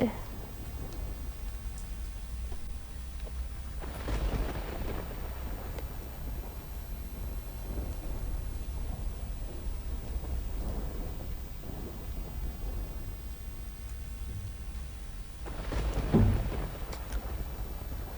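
Heavy monsoon downpour over Surat with steady rain noise throughout and thunder rumbling clearly twice, once near the start and again loudly near the end.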